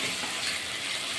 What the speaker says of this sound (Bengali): ভালো করে মিশিয়ে নেবো, নিয়ে আর একটু ভাজা করে নেবো।